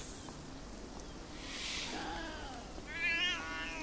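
An angry cat in the video game Beyond Eyes lets out a rising, strained meow near the end, close and clear, after softer hissy rustling and a faint earlier yowl.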